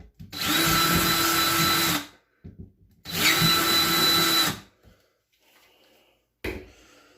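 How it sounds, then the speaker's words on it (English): A power drill whirs loudly in two long bursts of about two seconds each, widening wall anchor holes, with brief clicks and a short third start between quiet gaps. "drill these out one more time, just a hair wider"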